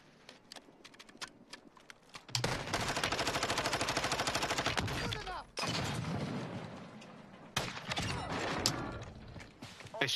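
Video game gunfire comes in sustained rapid automatic bursts, loud and dense, with scattered single shots and mechanical clatter before and after, while players talk over it.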